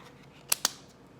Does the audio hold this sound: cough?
no